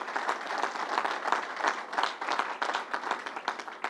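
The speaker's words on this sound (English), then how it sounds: "Let's give Jeff Wilpon a big round of applause" Audience applause at a public announcement by a governor in Nassau County, Long Island: a dense, steady crowd clapping that runs the full length at an even, sustained level.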